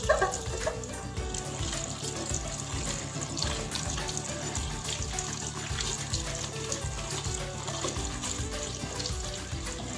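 Tap water runs steadily and splashes while hair dye is rinsed out, a loud continuous hiss with a faint background rhythm underneath.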